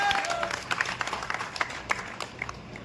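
Applause from a crowd at a Bihar health department event, a steady wash of many hands clapping with scattered sharper claps, heard alone without talk.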